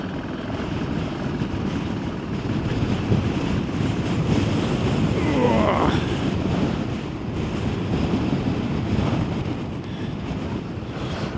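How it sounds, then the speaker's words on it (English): Gale-force wind at the top of a Scottish hilltop pass, a loud, continuous roar of gusts buffeting the microphone that rises and falls in strength throughout. "You can see how windy it is. It is blowing a gale."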